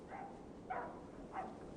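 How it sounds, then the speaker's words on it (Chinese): A dog in a sheep pen during a film scene gives three faint, short barks spaced about half a second apart, low and somewhat distant against a quiet background. "此时羊圈里的狗子猛然叫了起来。"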